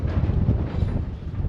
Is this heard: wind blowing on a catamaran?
yes